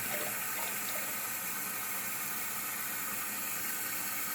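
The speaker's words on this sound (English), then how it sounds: "and I fill it the rest of the way about right there with hot water" Hot water runs steadily from a tap into a bottle that already holds peroxide, a continuous close splashing hiss that stays even and unbroken throughout.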